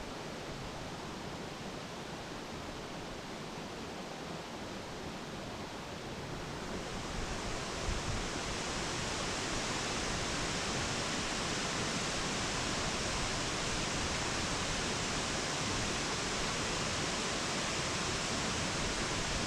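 A 50-foot waterfall at Dill Falls in North Carolina roars as a dense, continuous broadband rush, growing a bit louder and brighter partway through and staying steady with no voices.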